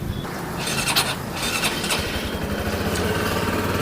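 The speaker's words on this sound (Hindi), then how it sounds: "तो बाइक स्टार्ट होती है" A TVS Sport 110cc motorcycle with a 2025 ETFI engine starts up, a brief whirring crank giving way to a steady, close, buzzy single-cylinder idle that continues without talk.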